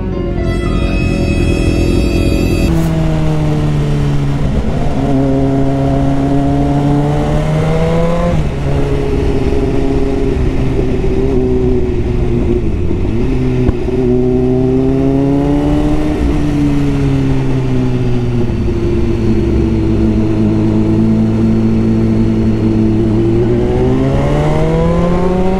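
A new motorcycle revs at length, its engine note repeatedly rising and falling in pitch through long sustained pulls, loud and close, with no talking.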